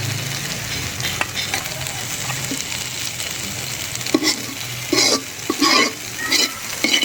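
A spatula stirs a white vegetable bhaji frying in a pan, with a steady sizzle under repeated scraping strokes that grow louder and more frequent toward the end, close and with no talking.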